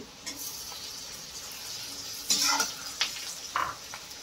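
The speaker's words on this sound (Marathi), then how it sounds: "आता मी याच्यात 3 मध्यम आकाराचे टोमॅटो टाकते।" Three medium tomatoes hit a pan of sautéed onions for prawn biryani, giving a soft, steady sizzle with a few brighter spatula scrapes and clinks near the end.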